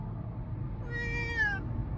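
A small kitten gives a single drawn-out meow with a falling pitch, near and fairly clear above a low steady background hum.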